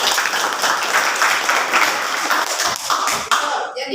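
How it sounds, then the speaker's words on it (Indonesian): Dense applause from a school classroom audience, many hands clapping steadily for about three seconds before thinning out at the end. "beri aplaus untuk mereka"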